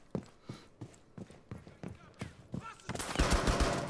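Rapid gunfire from a Rainbow Six Siege match using Nomad: a steady run of sharp, evenly spaced shots, then a louder, denser burst of fire at the end, with faint voices underneath.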